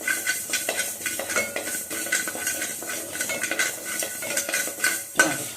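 Cumin seeds are lightly dry-roasted in a pan while being stirred, with repeated close scraping strokes and soft crackling sizzles at a steady rhythm.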